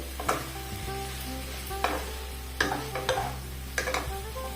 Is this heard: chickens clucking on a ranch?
no